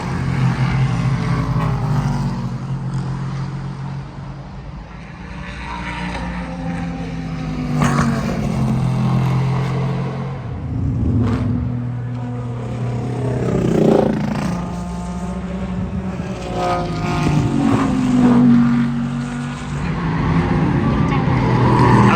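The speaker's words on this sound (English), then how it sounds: "Watch the dinosaur car drive by." Race cars at Watkins Glen circuit during a six-hour endurance race sweep past one after another, engines swelling loud and fading, while people talk nearby over the passes.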